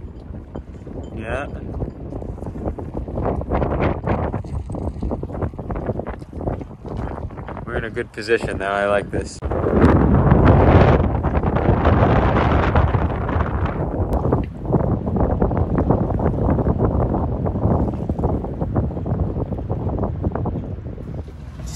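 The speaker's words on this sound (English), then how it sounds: "So I think it's getting pretty windy here, huh?" Strong wind buffets the microphone at a boat at anchor in a building storm with gusts to 35 knots, a loud steady roar with surges, while a voice talks over it throughout.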